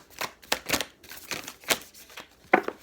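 Oracle cards are shuffled by hand in short, crisp riffling bursts, several quick flicks spread across a few seconds, close and fairly quiet.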